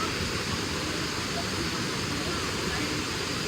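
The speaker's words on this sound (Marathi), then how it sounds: "तर हे बघा सुंदर असं हा धबधबा दिसतोय बघा एकदम छानपैकी." Domzira waterfall at Jawhar roars as a steady, dense wash of falling water, constant and broadband throughout with no break.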